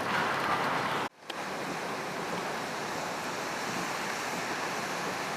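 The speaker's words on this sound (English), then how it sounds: "Yeah, a little bit of your stormy sea." Stormy sea waves and strong wind on Northumberland Strait in a winter storm, a continuous loud roar of surf and gusts that briefly cuts out and then resumes, with no talking.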